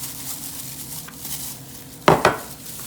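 Chopped vegetables for fideo get stirred in a pot, a couple of loud scraping clatters near the end after quiet background, no talking.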